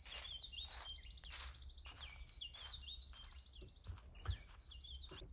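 Two bird calls placed at different sides in an object-based spatial audio demo, repeated rapid chirping trills recurring through the stretch at moderate distance over a low background hum.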